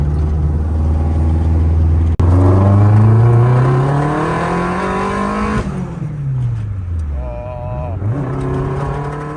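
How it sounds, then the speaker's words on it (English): A tuned car with an upgraded cam revs hard up through the gears, its deep engine note climbing in long rising sweeps before dropping back and revving again, loud and close from inside the moving car. "Sounds deeper with the cam."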